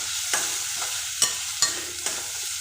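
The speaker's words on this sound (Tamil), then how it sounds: "வெங்காயம் நல்லா வதங்கட்டும். நல்லா கோல்டன் ப்ரௌன் கலரில் வரணும்." Onions sauté in a pan for crab gravy with a soft, steady sizzle, broken by four or five sharp clicks of a spoon stirring against the pan; no talking.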